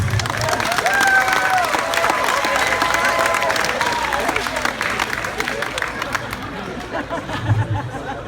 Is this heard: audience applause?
yes